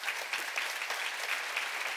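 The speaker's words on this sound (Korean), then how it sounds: "세게 쳐봐 박수 진짜로." Rhythmic, fairly soft clapping from a church congregation during a seminar-style service, many hands beating together in a steady pulse of roughly regular claps.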